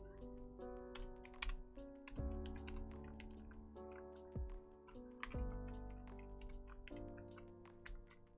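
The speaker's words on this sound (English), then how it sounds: "As soon as I started typing, as soon as I started putting the points in" Rapid typing on a computer keyboard, a steady stream of light clicking keystrokes, close and fairly quiet, heard alone over soft background music.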